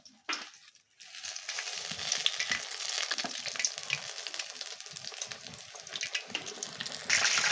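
Coated mushroom chops dropped into hot oil, a brief clatter then a continuous crisp hiss of deep frying with small pops, close and steady, getting a little louder at the end.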